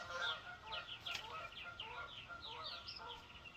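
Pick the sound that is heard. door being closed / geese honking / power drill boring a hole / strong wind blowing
geese honking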